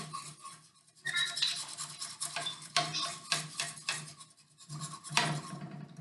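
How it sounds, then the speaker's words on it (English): A whisk scrapes and clinks around a pot as milk heats on the stove, close and fairly quiet, in irregular bursts of rapid stirring with short gaps. "as the milk heats up, you want to make sure you keep whisking it"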